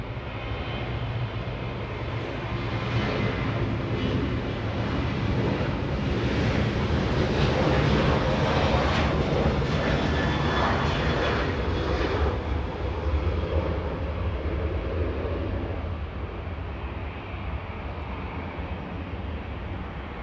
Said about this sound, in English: Southwest Airlines flying to Vegas, the departure that we just saw